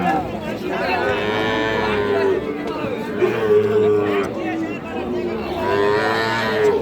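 Several long, low moos from Sahiwal bull calves nearby, overlapping one another amid the murmur of a crowd chatting in the background at a cattle market.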